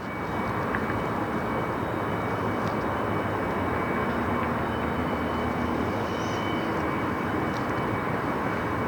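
Bombardier CRJ 900 regional jets take off and land at Detroit Metro airport, producing a steady, loud turbine roar that holds without break throughout.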